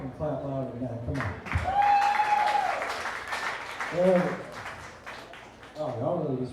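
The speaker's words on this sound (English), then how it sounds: "Y'all can clap louder than that, come on." Comedy club audience clapping at a standup show, modest applause running under a voice as he talks over it and urges the crowd to clap louder.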